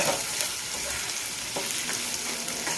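Gravy for matar paneer is sautéed in ghee with a steady, close sizzle and soft stirring scrapes that continue throughout.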